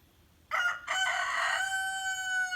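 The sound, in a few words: roosters crowing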